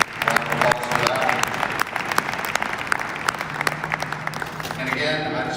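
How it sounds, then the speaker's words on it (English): Audience at an event in the Seattle Convention Center breaks into a big round of applause, loud and sustained with sharp individual claps and some cheering voices mixed in, easing slightly near the end. "if we could give everybody a big round of applause for that"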